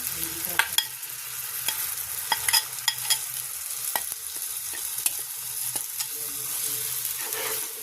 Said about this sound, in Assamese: আৰু এতিয়া ধুনীয়াকৈ লৰাই থাকিব আৰু ভালকৈ লৰাই থাকিব